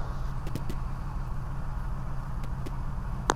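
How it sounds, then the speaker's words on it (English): Steady low, droning engine roar of a DeHavilland Beaver seaplane in flight, heard from inside the cabin as a continuous near rumble with a few faint clicks and a brief sharp sound near the end. "I'll let you hear the motor roar."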